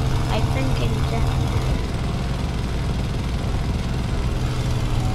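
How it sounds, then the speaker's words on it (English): A War Thunder bomber's engine drones in a steady, loud low rumble that holds through the whole stretch, with speech mixed in. "Because of this loud engine"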